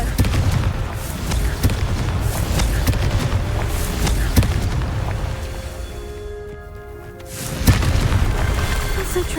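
A Confringo blasting spell in Hogwarts Legacy sets off repeated booming explosions over continuous rumbling game sound, with a brief lull before another loud blast near the end.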